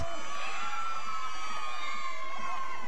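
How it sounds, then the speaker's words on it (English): Loud packed crowd cheering and whooping after a goal at a USL Premier Development League soccer match between Cincinnati Dutch Lions and River City Rovers, a sustained roar with shouts layered over it throughout. "that brings this loud, packed crowd with a lot of cheers for their USL Premier Development League team"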